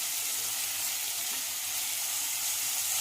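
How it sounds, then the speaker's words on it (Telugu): Onions frying in oil for a Telugu dried prawn curry, giving a steady, close hiss of sizzling throughout with no speech. "అదే ఆయిల్లో మన ఆనియన్స్ ఉన్నాయి కదా, అవి వేసేసుకుందాం."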